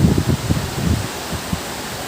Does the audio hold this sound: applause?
no